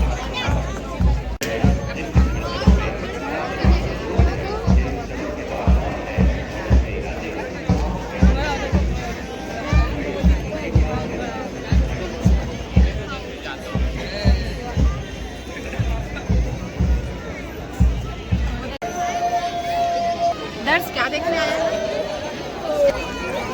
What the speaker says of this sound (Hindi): देखो भीड़ कितना ज़्यादा है।